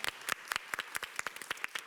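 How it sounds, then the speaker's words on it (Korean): A small audience at a K-pop panel gives brief scattered applause, a few distinct quiet claps spaced irregularly, fairly faint. "박수 한번 부탁드립니다"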